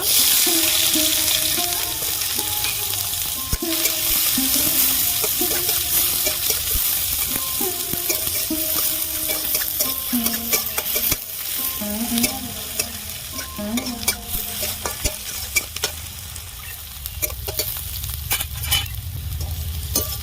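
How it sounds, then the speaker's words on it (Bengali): Onions sizzle loudly in a pan while a utensil stirs and scrapes repeatedly, steady frying noise close up with no speech. "পেঁয়াজগুলো ভেজে নেব"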